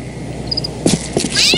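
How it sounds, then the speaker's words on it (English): A cat meows in the video game Postal 2, with a few short, loud, close cries over a steady background hum of game ambience and a faint chirping, with no talk. "why the hell there's so many cats in this area"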